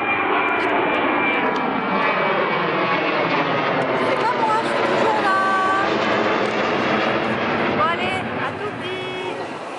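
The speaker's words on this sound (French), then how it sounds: "Regardez l'avion qui décolle." Near an airport, an airplane roars steadily throughout while taking off, a broad continuous engine rush with people talking over it.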